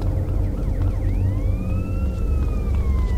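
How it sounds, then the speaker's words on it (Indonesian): A video game fire truck siren wails with rising and falling tones over a loud, steady engine rumble, close and continuous, in GTA. "Itu ada pemadam kebakaran"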